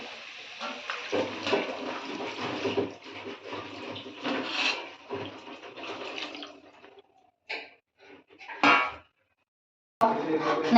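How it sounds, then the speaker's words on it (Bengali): Water rushes from a container into a pan of fried spice paste for a fish curry, a steady loud pour with some pan clatter, then it breaks into short bursts before stopping. "তো এবার এখানে জল আছে, জলটা ঢেলে দেবো।"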